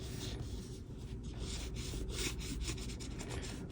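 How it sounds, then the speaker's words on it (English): An edge glider burnisher rubs along the thin edge of 1-2 oz (0.6-1.0 mm) leather, making a soft, steady scraping friction. The rubbing is fairly quiet and continuous, with faint strokes rising and falling. "I'm gonna burnish it."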